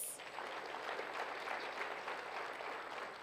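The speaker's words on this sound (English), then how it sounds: "let's give ourselves a round of applause" An audience applauds at an evening event, a steady wash of many hands clapping together, moderately distant and even in level for a few seconds with no talk over it.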